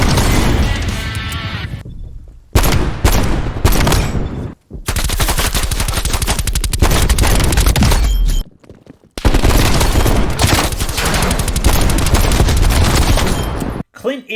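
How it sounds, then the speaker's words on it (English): Loud, repeated .44 Magnum revolver gunshots in the Call of Duty Black Ops Cold War beta, sharp booming reports packed densely in bursts with brief silent gaps between volleys, plus faint game chatter. "My favorite is the 44 Magnum. Just listen to this."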